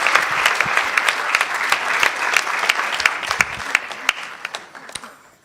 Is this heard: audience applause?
yes